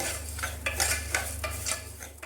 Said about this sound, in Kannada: ತುಪ್ಪದಲ್ಲಿ 1-2 ನಿಮಿಷ ಹೀಗೆ ಹುರ್ಕೋಬೇಕು